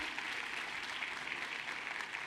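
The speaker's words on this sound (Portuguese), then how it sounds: "Uma salva de palmas para os adolescentes." A church congregation applauds the teenagers with a brief, steady burst of many hands clapping throughout the room.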